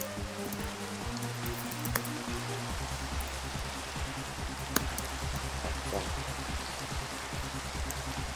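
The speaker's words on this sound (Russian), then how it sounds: "Все, блин, отключу этот дождь" Steady rain in the Minecraft video game, a continuous hiss of falling drops heard alongside low sustained background music tones that shift in pitch.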